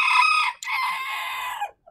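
A pet rooster crows in one loud, close, drawn-out call that breaks briefly midway before trailing off, with a faint cluck at the very end.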